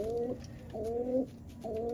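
Pigeons in a loft coo close by in three repeated rolling phrases with short pauses between them, no voices.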